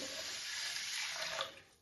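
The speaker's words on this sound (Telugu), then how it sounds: "ఇప్పుడు ఇందులోకి వాటర్ యాడ్ చేసుకుంటున్నా" Water pours steadily into a rice cooker pot holding washed rice, a close, broadband splashing rush that lasts under two seconds and tapers off at the end, with no talk.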